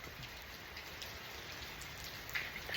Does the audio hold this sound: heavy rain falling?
yes